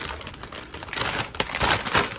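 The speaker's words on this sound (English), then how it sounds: "put them in our plastic bag" Blue nacho chips crinkle and rustle as they are dropped into a plastic bag, a close, steady crackling with a few louder crunchy bursts and no talking.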